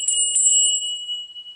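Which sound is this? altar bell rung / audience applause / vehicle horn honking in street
altar bell rung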